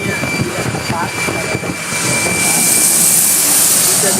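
A jet airplane taking off makes a broad, steady roar that swells louder about halfway through and then holds.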